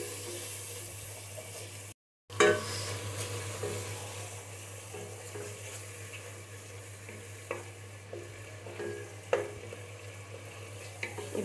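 Turmeric, chili powder, coriander and salt are sautéed in a pan for khichuri, giving a steady low sizzle with occasional soft stirring scrapes and clicks, close and quiet with no talk.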